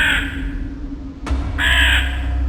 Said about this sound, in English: she became startled by the screeching sound of a crow